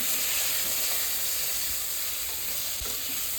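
Chopped tomato hits eggplant frying in a pan, giving a steady, close sizzle and hiss that fills the whole stretch, with a couple of soft thumps from stirring.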